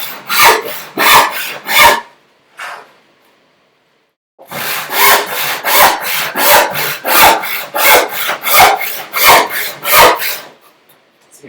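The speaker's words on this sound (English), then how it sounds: "So I'll use a finer saw." Fine hand saw cutting wood during a bookcase build, near and loud: a quick run of rhythmic rasping strokes, a brief pause, then a longer steady series of back-and-forth strokes.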